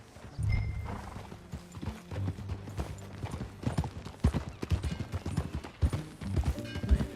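Horse hooves clip-clop at an easy riding pace in the video game Red Dead Redemption 2, with a horse whinnying briefly early on, over a low rumble of background score.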